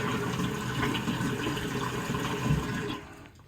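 Water is splashed and rubbed onto a neck before shaving, a steady close wash of running and splashing water that thins out near the end.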